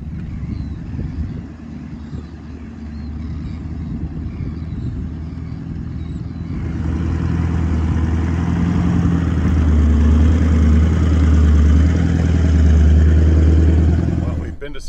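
A four-wheel drive vehicle climbs a rough bush track near Coffin Bay, its engine a loud steady drone that swells and grows heavier partway through, with rattling cabin noise throughout.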